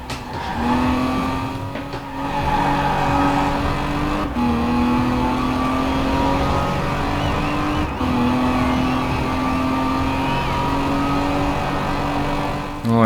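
Racing car in a driving video game, its engine droning steadily close up with repeated upward pitch sweeps as it accelerates through gears, a brief dip at each braking point for a wide corner, and faint tyre noise.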